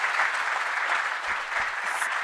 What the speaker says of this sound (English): You can clap for them, your parents and yourself.